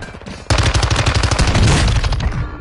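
Machine-gun fire in a video game rings out after a short quiet lead-in, a loud rapid burst of shots that keeps going for about two seconds.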